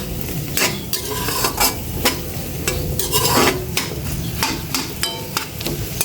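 Sliced onions are sautéed in a pan, with a low sizzle under repeated sharp scrapes and clacks of a utensil stirring against the pan at a steady, busy rhythm, and no voices.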